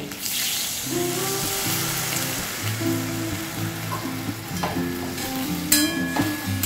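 Water hits a sizzling pan of potol (pointed gourd) curry, setting off a loud, steady hiss and crackle that fills the whole span, with background music playing throughout.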